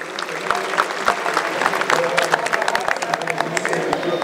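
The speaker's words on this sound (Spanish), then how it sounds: "un aplauso para el señor" Audience applause after a lecture on small satellites, a thick, steady patter of many hands clapping at close range with crowd murmur beneath, continuing throughout.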